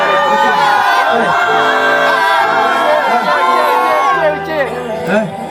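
Stadium concert crowd roaring and whooping, a thick wall of cheers and shouted voices, loud and continuous, easing slightly near the end.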